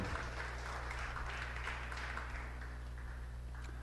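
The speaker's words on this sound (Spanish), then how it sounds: "apláudalo a Él bien fuerte" Congregation in a church clapping: a dense, even wash of applause from many hands, heard at a distance and fairly faint, with no pause over the few seconds.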